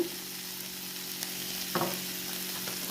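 Tawa pulao sizzles and fries steadily in a hot pan over a high flame, a continuous close hiss with a brief clatter of tossing near the middle.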